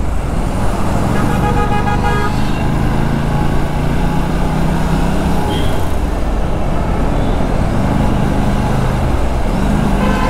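An Aprilia RS 457 motorcycle rides through busy road traffic, its engine a steady drone under dense surrounding vehicle noise, with horns tooting now and then throughout.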